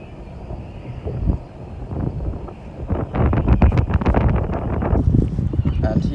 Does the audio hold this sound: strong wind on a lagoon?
yes